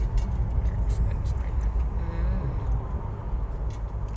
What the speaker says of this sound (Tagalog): Why it's too much traffic?